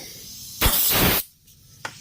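A short, loud blast of compressed air from a blowgun hisses for about half a second while blowing dust out of a space heater, then stops, followed by a faint brief puff.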